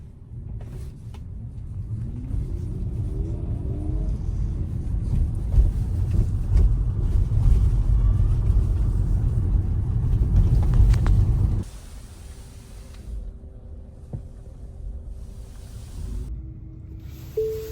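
Low, steady road rumble inside a moving car in New York, with a broadband drone for most of the stretch before it drops to a quieter hum, no talking.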